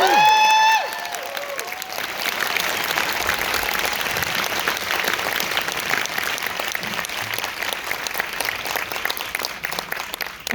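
A studio audience at a talk-show interview with Michelle Williams bursts into sustained, steady applause just after a brief spoken introduction, the clapping dense and close throughout.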